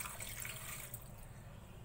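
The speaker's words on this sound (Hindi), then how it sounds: "हमने यहाँ पे इसमें 1 गिलास पानी डाला है।" A glass of water is poured into a pressure cooker onto mutton with ginger-garlic paste, making a steady splashing gush that is strongest at first, then settles to a softer trickle.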